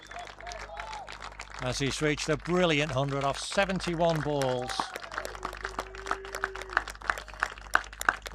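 Spectators at a club cricket match between Didsbury and Neston in the ECB National Cup break into cheering and applause, a sustained crowd roar and clapping heard beneath a commentator talking over it.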